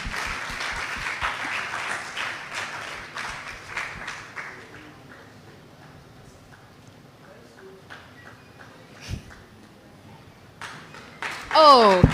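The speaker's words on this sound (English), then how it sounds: "keep clapping, keep clapping" Audience clapping for a media team at a women in PR event, loud applause for roughly four seconds that thins into scattered claps, with quieter room noise and a brief sound burst at the end.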